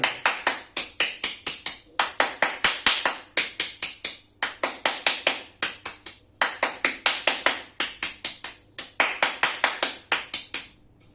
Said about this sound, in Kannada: ಎರಡನೇ ವಿಷಯ ಅಂತಂದ್ರೆ ಈ ರೀತಿ ಚಪ್ಪಾಳೆ